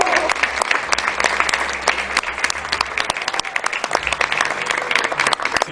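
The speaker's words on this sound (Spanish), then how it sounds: "Aplauso a Cipriano." Audience applause for Cipriano, visiting from Spain to present an updated edition of the Siglo de Oro Bible, fills the room with dense, steady clapping from many hands, sustained and fairly loud throughout.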